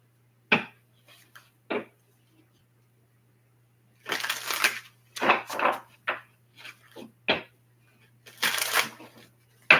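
A deck of cards being shuffled during a card reading, with several separate riffle and snap bursts spaced across the stretch and short quiet gaps between them, close-miked over a low constant hum.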